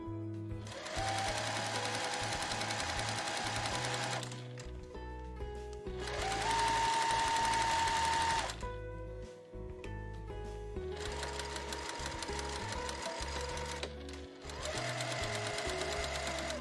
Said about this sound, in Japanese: それぞれを1センチ縫います。